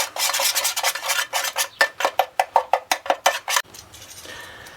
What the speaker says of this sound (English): 1 tablespoon of pepper, and 1 tablespoon of salt. We're going to give them a tiny whisk together.